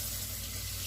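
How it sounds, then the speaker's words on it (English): Tap water runs steadily over hands being rinsed at a kitchen sink during gnocchi making, a short continuous wash with no voices. "let me rinse my hands out"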